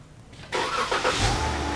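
A car engine turns over and catches during tech training on a purge valve problem, then settles into a steady, close idle that runs to the end with no one speaking.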